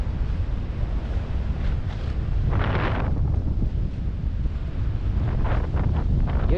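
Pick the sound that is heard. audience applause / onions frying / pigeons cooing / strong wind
strong wind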